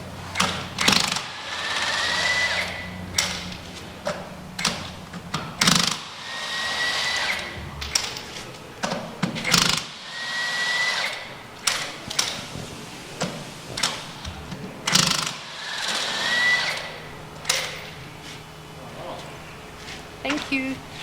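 A tyre repair machine works on an RV tyre in a shop, whirring in repeated bursts with sharp clicks and mechanical pulses, while people talk nearby throughout.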